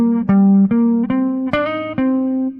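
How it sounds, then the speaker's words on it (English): An instrument plays a bluesy jazz line of about six sustained, harmonically rich notes in a steady, moderate rhythm, each note clearly articulated and heard alone with no voices. "This is a bluesy kind of sound."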